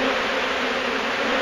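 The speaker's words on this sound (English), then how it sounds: "As you can see, as far as you can see in there are bees." Dense, continuous buzzing comes from a large mass of honeybees swarming around an unfriendly hive during a bee removal. The loud, close drone holds steady throughout, with no voices.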